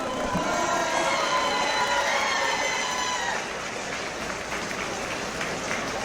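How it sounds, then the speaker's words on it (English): A boxing crowd applauds two fighters after a lightweight bout, with dense, steady clapping and some cheering from an arena audience that fades slightly toward the end. "let's give these two boxers one more big round of applause"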